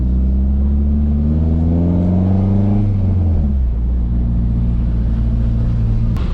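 A relatively quiet car engine revs up, its hum rising in pitch over a few seconds, then dropping back to a steady idle, loud and close with no talking.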